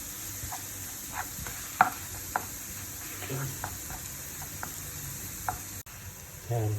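Chicken and mushrooms sizzle steadily in a pan for a creamy chicken dish, with a few sharp scrapes and clicks as the food is stirred, close and continuous with no talking.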